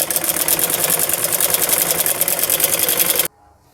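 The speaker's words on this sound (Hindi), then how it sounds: "हम यहाँ पर सिलाई लगा लेंगे" An electric sewing machine stitches a seam on a ladies' trouser in a fast, even run of needle strokes that clatter loudly and close for about three seconds, then stop abruptly into near silence.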